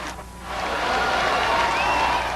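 Crowd applauding in a football stadium on a sunny autumn day, sustained distant clapping and cheering that swells after a brief quiet start.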